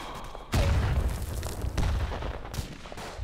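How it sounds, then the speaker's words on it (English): A grenade explodes in the World War I shooter Verdun, a sudden loud boom with a rumbling tail, followed by ongoing distant battlefield gunfire and ambient clatter. "Oh, that was a grenade."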